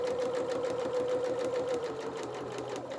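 A sewing machine reverse-stitches through fabric with a steady, rapid mechanical whir and rhythmic needle clatter. It runs close and continuous for about three seconds, with no talking.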